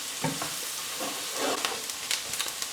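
Flour cooks with pork in a pan, giving a soft sizzle broken by several scraping stirs of a utensil against the pan, near and moderately quiet, with no talking.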